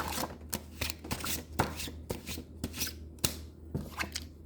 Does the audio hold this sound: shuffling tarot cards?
yes